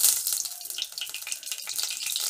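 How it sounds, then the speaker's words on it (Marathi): Curry leaves dropped into hot oil in a kadhai, for a Kolhapuri-style crab curry, crackle and hiss in a bright, close sizzle that carries on steadily without talk. "यामध्ये आपण कढीपत्त्याची पान टाकून घेऊया."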